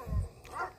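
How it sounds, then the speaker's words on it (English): A neighbor's dog gives one short, faint bark from some distance, a single muffled woof over a low background. "My neighbor's dog."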